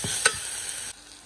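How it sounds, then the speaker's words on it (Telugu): Onions with ginger garlic paste sizzling in a pan for a chicken wings curry, a steady close frying hiss with a brief scrape of stirring near the start, cutting off abruptly before the end. "ఉల్లిపాయలు బాగా వేగినాయి, మనం అల్లం వెల్లుల్లి పేస్ట్"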